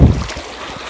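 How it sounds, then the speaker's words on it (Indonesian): Swift, turbulent river water rushing loudly at close range, a broad continuous roar heaviest at the start and then steadying, with wind buffeting the microphone. "Ini airnya agak deras sekali ya."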